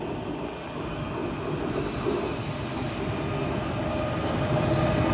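A train passes through Den Haag Centraal station with a loud, close rumble, and a high metallic wheel squeal rises for a couple of seconds in the middle before fading back into the steady rail noise.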